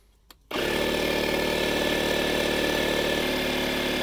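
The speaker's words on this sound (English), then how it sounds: "So now we're going to try and pump it up." A 12V electric pump inflating a Hummer tyre starts abruptly after a brief quiet moment and then runs steadily, a loud, close, buzzing mechanical drone with a constant pitch that shifts slightly near the end.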